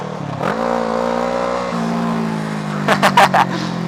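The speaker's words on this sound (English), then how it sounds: "How's that for a wheelie?" A Kawasaki ER6F motorcycle revving hard during a wheelie, a loud close engine drone that climbs in pitch and holds, then a quick burst of sharp throttle blips near the end.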